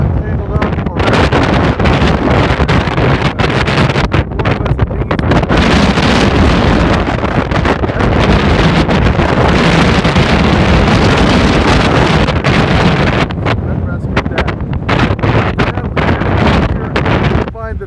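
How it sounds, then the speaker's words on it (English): Strong, gusty high wind buffets the microphone near boats on the water, a loud continuous roaring rumble that barely lets up. "Holy cow, this wind is something else right now."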